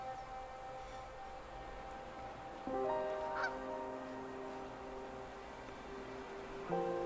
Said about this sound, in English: Duck. I think it's a duck.